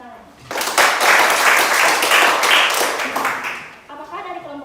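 Classmates applaud after a group presentation in a university teaching-practice class, a burst of close, dense clapping that swells quickly, holds for about three seconds, then fades as a voice begins.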